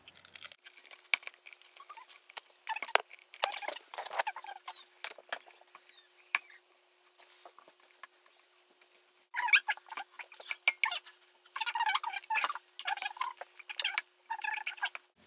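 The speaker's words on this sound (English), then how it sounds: "we're just going to stir it" Homemade cold porcelain clay mixture being stirred partway through cooking, giving irregular sticky scraping and pattering strokes, close and moderately loud, with a quieter pause in the middle before the stirring resumes.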